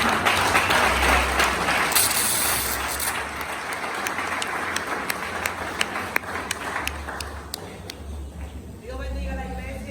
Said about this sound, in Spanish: con un aplauso fuerte vamos a recibir